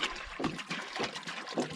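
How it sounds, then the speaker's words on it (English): Mexican tap water poured into a plastic bear canister, a faint sloshing trickle with soft gurgling surges, close and brief, heard alone. "I'm going to go ahead and dump the Mexican tap water into my Bear canister"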